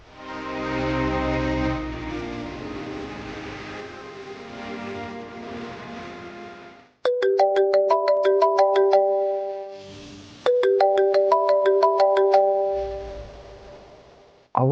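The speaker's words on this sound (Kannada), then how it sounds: "ಅವ್ವ ಫೋನ್ ಮಾಡ್ತಾ ಇದ್ದಕ್ಕ." Mobile phone ringtone for an incoming call, a bright repeating electronic melody that plays in two bursts and stands alone after a stretch of background music.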